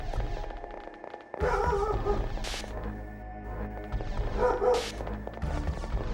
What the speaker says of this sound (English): She's getting her birthday barks in.